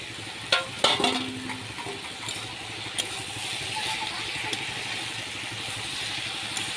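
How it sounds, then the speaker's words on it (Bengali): Cabbage and spices fry in a pan with a constant close sizzle, broken early by a few sharp clinks and scrapes of a spoon stirring. "মশলা আর বাঁধাকপিটা অনেকক্ষণ ধরে নাড়বো।"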